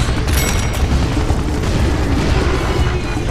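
Dense, loud, continuous weapon fire and explosive booms in the game Serious Sam 3 BFE during a co-op fight in Nubian temples, a blasting wall of sound with no gaps.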